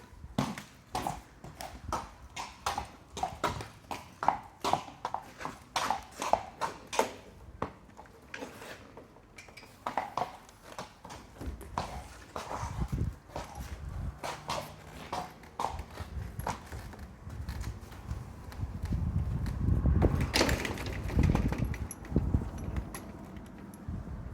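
A horse's hooves clip-clop in a steady walking rhythm on a hard surface as it is led into an arena, then grow softer and duller as a low rumble rises near the end.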